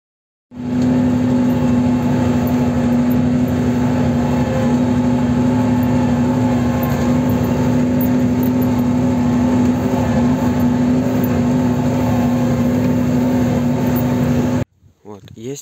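Tractor pulling off to plough with a homemade mouldboard plough: a loud, steady engine drone with a strong low hum, close and unbroken for about fourteen seconds, then cutting out abruptly.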